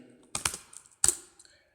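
Typing the command clear into a Linux terminal on a computer keyboard: a few sharp, close key clicks in two brief bursts, quiet between.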